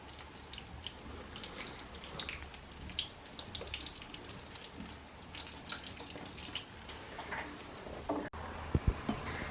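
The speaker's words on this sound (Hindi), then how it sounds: "अब थोड़ा सा जो हम पानी लगाने लगे हैं," Water trickles and splashes from a tap or pouring into a flowerpot holding a potted mint plant, a continuous splashing wash with some louder drips near the end.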